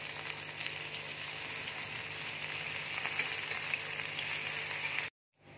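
Ginger, garlic, green chilli and spring onion sizzle steadily in hot oil in a wok, a dense continuous crackle close by that cuts off abruptly near the end.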